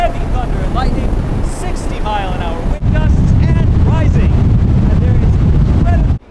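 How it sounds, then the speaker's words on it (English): Heavy wind in a wind tunnel, gusting around 60 mph, roars and buffets a microphone continuously, loud and rumbling, with a person talking over it throughout. "60 mile an hour wind gusts, and rising"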